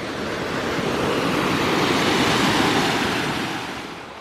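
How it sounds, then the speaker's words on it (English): A Black Forest waterfall gives a constant, broad rushing roar that swells slightly and then fades a little, steady and fairly close, with no voices. "now we climb past the waterfall"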